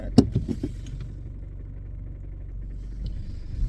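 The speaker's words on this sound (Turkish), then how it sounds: "Ben de arabayı döneyim." A car idles and rumbles steadily while turning around in a street, with a few brief knocks and clunks near the start and a faint higher tone later, no talk.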